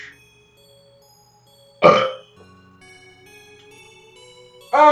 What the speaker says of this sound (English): Now I feel that burp coming on again.